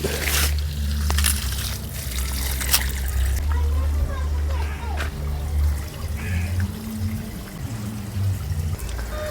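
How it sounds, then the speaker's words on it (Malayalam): Water draining out of a fish pond pours and splashes steadily, a continuous trickling rush with occasional sloshes, close by and fairly loud throughout. "നമുക്ക് വെള്ളം ഇതിക്കടെ പോകുന്നുണ്ട്"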